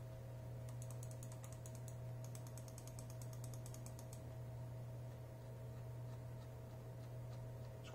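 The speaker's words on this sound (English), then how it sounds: "Let's first see the clicks of this Deluxe." A Delux M700 computer mouse gives quick, sharp clicks in close succession in several short bursts, all close-miked and faint over a steady low hum.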